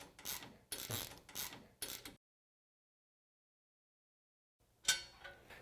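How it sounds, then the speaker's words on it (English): Bolts are snugged down on a Tusk spare tire carrier for a Yamaha Wolverine RMAX4 1000, heard as several short, close ratcheting and scraping bursts, then a long silence and one more sharp burst near the end. "I'm going to lightly snug down the bolts going all the way through"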